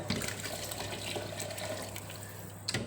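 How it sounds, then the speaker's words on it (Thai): Water runs and splashes steadily into a container for a few seconds, a close, continuous pouring sound with no talking. "อันนี้ก็เติมน้ำลงไป"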